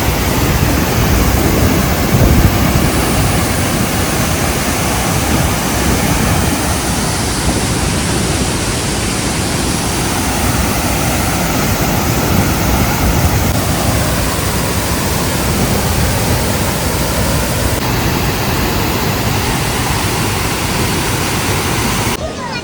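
Ezhrakund Waterfall in Kannur, Kerala roars as a loud, steady broadband rush of falling water, close by and unbroken for over twenty seconds.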